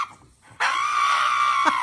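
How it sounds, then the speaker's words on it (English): A dog having its nails clipped lets out a loud, sustained, high-pitched scream after a brief quiet moment, close and harsh, with a short break near the end. "that was a dog scream"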